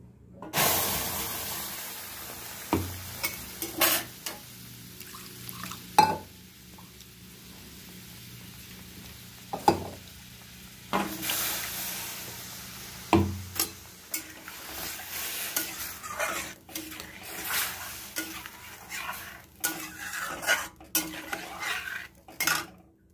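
Spice paste thinned with a little water cooks in a wok while a utensil scrapes and stirs it, giving irregular clinks and scrapes over a soft hiss, with a few louder knocks against the metal.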